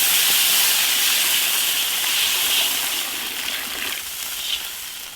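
Water poured into a hot wok of chili oil fried with ginger, garlic, pickled chilies, chili paste and Sichuan peppercorns sends up a loud, steady steaming hiss that eases slightly toward the end.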